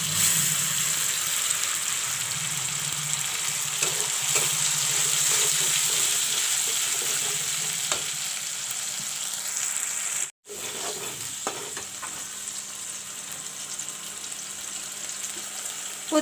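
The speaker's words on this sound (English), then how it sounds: "Fry the onions till it gets brown." Onions and ground masala fry in a pan for a curry with drumstick, cauliflower and potato, giving a steady, close sizzle with a brief break near the end and no talking.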